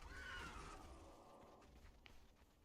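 A horse neighs in the video game Conan Exiles, a faint, brief whinny at the start that fades into a quiet background rumble with a few soft thuds.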